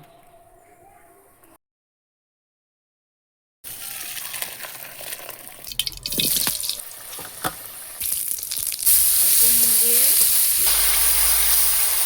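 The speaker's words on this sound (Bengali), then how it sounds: "গরম জলে চর্বিটা ফুটিয়ে নেব" Fat boils in hot water in a home kitchen, a rising bubbling sizzle with clinks and scrapes after a brief quiet gap, growing louder and denser toward the end.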